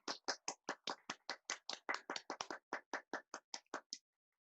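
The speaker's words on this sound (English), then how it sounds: "Please take a bow and a round of applause." Applause for a theatrical dance act at an online cabaret show, about twenty distinct, evenly spaced hand claps from one nearby person, fairly quiet, then stopping abruptly.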